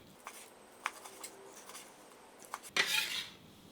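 A knife cuts pork into small fingertip-sized pieces on a cutting board, making quiet, irregular taps and light clicks. A louder scraping sweep follows near the end, all faint and close with no speech.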